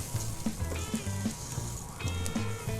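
Rice sautés with softened onion in a hot pan for risotto, a steady close sizzle broken by rhythmic scraping and stirring strokes.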